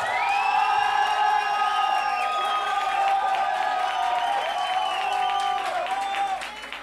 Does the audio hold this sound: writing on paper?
no